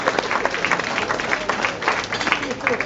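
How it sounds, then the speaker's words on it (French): An audience at an evening stage show applauds in a brief, fairly loud burst of mixed clapping, with some voices in the crowd heard during the applause. "sous vos applaudissements, mesdames et messieurs"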